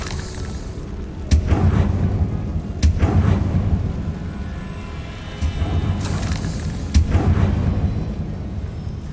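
Confringo fire spell in Hogwarts Legacy, several booming blasts spaced a couple of seconds apart over a constant low game rumble, loud and close.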